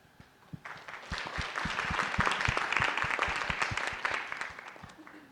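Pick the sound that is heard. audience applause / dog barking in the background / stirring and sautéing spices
audience applause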